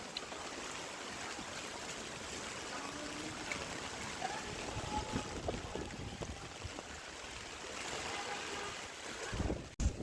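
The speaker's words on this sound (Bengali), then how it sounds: "আমি ছাতা ধরে রাখতে পারতেছি না এত পরিমাণ বাতাস আর বৃষ্টি" Steady, loud broadband rush of wind and falling rain from Cyclone Remal in Barishal fills the whole stretch, with a brief sharp knock near the end.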